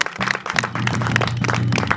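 An audience at a CCM inspection of school building projects in Maguvani ward, Makambako, claps continuously for a couple of seconds, with a low tonal hum beneath.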